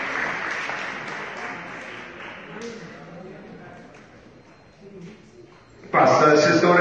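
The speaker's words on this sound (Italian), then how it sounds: "ma per la prossima volta l'applauso a tutti e sei ragazzi" Applause from a crowd at an athletics meeting after a 60 m sprint bursts out loud and close near the end, following a stretch of Italian commentary.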